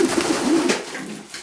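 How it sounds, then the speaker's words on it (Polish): A pigeon coos softly up close in a short, low, throaty series, with faint background rustle. "To jest gołąb"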